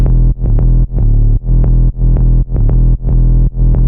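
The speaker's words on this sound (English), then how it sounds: "To process this bass, I just added heaps of distortion, just using Decapitator." Heavily distorted bass pushed through Decapitator saturation, its sustained harmonic-rich tone pumping rhythmically as LFO-tool sidechain ducks it roughly every half second in a loud, steady pattern with no voices.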